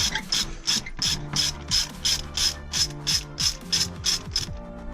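A ratchet wrench spins off a 10mm bolt on a Nissan 350Z, giving a steady run of about a dozen sharp, close clicking bursts with no talk over it.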